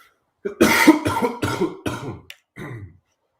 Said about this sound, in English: I'm going to need you to stop coughing.